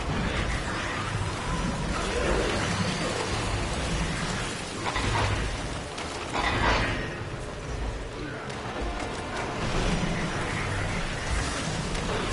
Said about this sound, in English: The rain of toads goes all across